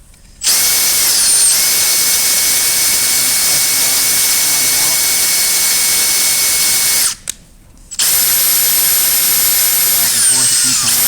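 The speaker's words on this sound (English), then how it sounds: "Just put the drill on lightly." A power drill runs on a valve from a Ford 6000 tractor, whining loudly and steadily up close. It stops briefly, starts again for a second long run, and winds down at the end.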